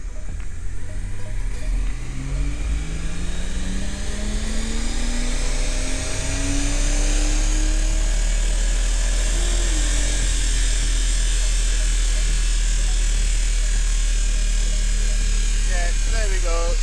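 A BMW M140i with a ZF 8-speed gearbox on a dyno run in sixth gear, engine note rising steadily in pitch as it revs hard and loud throughout, closing with a brief rattle as the pull ends.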